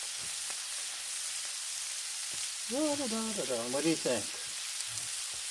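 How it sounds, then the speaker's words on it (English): Sausage with onions, peppers and other vegetables sizzles steadily on a Blackstone griddle, a constant close hiss throughout, while a voice speaks briefly partway through. "Let the sausage cook a little. See, it's coming along quite nicely. Getting a sear already."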